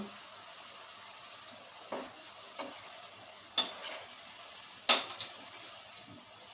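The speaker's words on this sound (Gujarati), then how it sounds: "આ રીતે આપણે બધા ગુલાબજાંબુ તળી લેશું" Quiet, even sizzle of bread gulab jamun frying in oil, broken by scattered sharp clinks as the pieces are turned.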